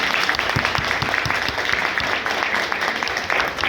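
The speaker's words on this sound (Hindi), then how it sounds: "और एक बार ताली बजाइए।" Audience applause at an Indian youth day talk, a continuous crowd of hands clapping with sharp individual claps audible within the steady wash, loud and sustained throughout.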